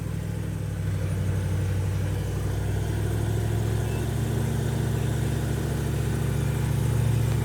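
A car engine idling steadily while warming up, a continuous low rumble with an even throb that holds the same level throughout, heard alone without speech.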